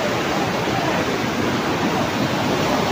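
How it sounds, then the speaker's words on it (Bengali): A roaring waterfall at Vashistha temple pours in a dense, steady rush of close, loud white noise with no break and no voices. "প্রচণ্ড সাউন্ড ঝর্ণার"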